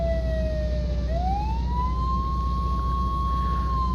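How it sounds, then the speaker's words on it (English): An emergency siren from a fire truck in an ambulance simulator video game dips, then sweeps up into a long sustained wail over a steady engine drone, loud and continuous, with no voices. "it's the same siren as you'll hear on the fire truck."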